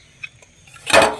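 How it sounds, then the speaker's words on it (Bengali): A lid is lifted off a covered pot of boiling, steaming water on a gas stove, a quiet tick and then one brief, close metallic clank and scrape. "ঢাকাটা তুলে নিচ্ছি।"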